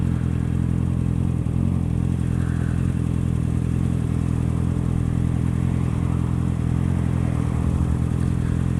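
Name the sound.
Honda CBR650R motorcycle engine revving on throttle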